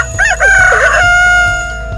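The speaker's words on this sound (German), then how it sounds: "Der ca. 35 cm große Hahn kräht und tanzt schließlich mit einem voreingestellten Sound zur gewünschten Zeit" A NICI Good Morning Buddy plush rooster alarm clock, about 35 cm tall, plays its preset electronic cock-a-doodle-doo crow, loud and close, one full crow filling the moment.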